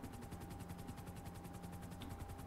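In GTA V Online, a helicopter's rotor thumps in a steady rapid beat over a constant engine whine, holding at an even level throughout.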